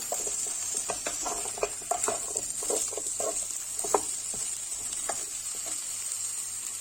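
Potatoes sauté in a pot with a continuous bright sizzle, scattered with small pops and crackles of frying, and no voices.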